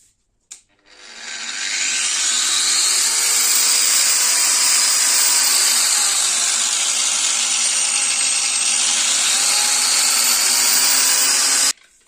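A ProCraft PW1100 ES angle grinder spins up and runs with a loud, steady high-pitched whine for about eleven seconds, then cuts off abruptly.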